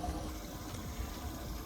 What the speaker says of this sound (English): You guys can hear my live well aerator running in the background.